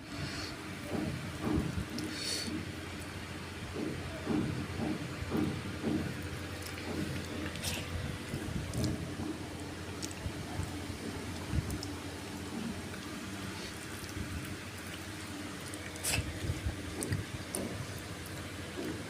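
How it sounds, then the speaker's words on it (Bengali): Light morning drizzle, a soft, continuous patter of raindrops with scattered faint ticks and low rumbling, steady and fairly quiet throughout. "সকালে গুড়ি গুড়ি বৃষ্টি হচ্ছে।"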